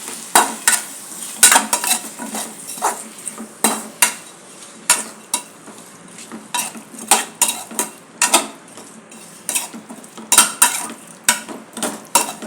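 Chicken with onions, tomatoes and green chillies frying in a pan, stirred by a metal spoon in repeated scraping, clattering strokes over a low sizzle, loud and close throughout.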